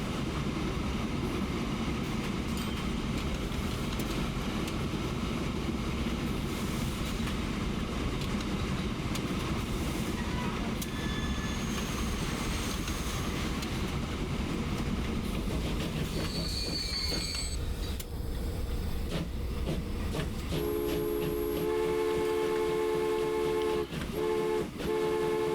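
A train running in the video game Transport Fever, a steady loud rumble of wheels on track with squealing, then a horn tooting in repeated blasts near the end.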